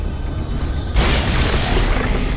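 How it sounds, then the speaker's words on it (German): A headshot explosion effect in the video game Hunted: The Demon's Forge, a sudden loud boom that bursts in partway through and lingers as a dense rumbling roar. "Kopfschuss mit Explosionseffekt."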